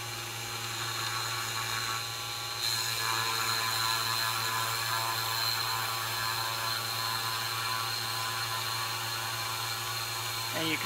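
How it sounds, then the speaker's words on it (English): Wooden workpiece being cut on a hand-cranked machine locked in the up-and-down axis, giving a steady, continuous mechanical grinding and ratcheting whir that runs throughout at even loudness, with a slight rise partway through. "we're cutting through this basically as fast as I can turn the crank"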